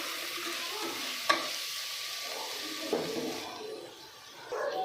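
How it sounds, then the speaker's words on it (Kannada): Tomatoes salted and frying in a pan give off a steady broadband sizzle, with a sharp utensil knock and a few stirring scrapes breaking through; the hiss dips briefly near the end before rising again. "ಟೊಮೆಟೊ ಫುಲ್ ಸಾಫ್ಟ್ ಆಗೋವರೆಗೂ ಚೆನ್ನಾಗಿ ಫ್ರೈ ಮಾಡ್ಕೋಬೇಕು."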